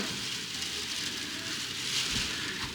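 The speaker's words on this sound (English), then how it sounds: "It's just hail, not snow, so hopefully it doesn't last." Hail falls outside on a grey winter day, making a steady, dense pattering hiss that swells slightly near the end, with no voices.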